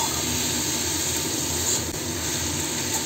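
Onions frying in plenty of oil in a pan, a steady, loud, even sizzling hiss with no pauses.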